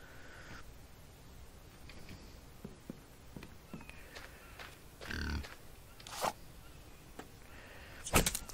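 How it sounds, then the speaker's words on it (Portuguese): A pig snorts and grunts inside a base in the zombie survival video game The Infected. The short, scattered snuffles and bumps are fairly quiet, with a louder burst near the end and no talking. "o porco parece que tá roncando aqui dentro aqui"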